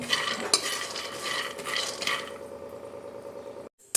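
Peanuts dry-roasting in a pan and being stirred, a busy rattling, scraping clatter of nuts shifting against metal that eases after a couple of seconds, ending with a short pause and a clunk.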